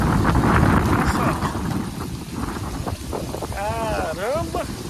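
Strong gusty wind roars steadily ahead of an approaching rainstorm, a loud, rushing outdoor wash, with a person speaking and whistling-like vocal tones breaking through near the end.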